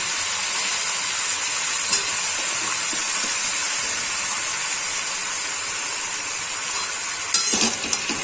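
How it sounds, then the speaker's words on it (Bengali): Chopped tomatoes sizzle in a pan with already-fried vegetables and spinach for a prawn and spinach dish, a steady, close hiss of frying with a brief louder flare near the end. "এবার আমি এর মধ্যে দিয়ে দেবো টমেটো কুচি।"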